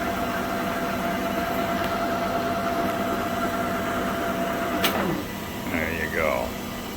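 A Leblond Regal 36-inch by 144-inch lathe running at a slow 58 RPM, giving a steady mechanical hum and drone with faint tonal whine, close and continuous, with a brief clunk partway through.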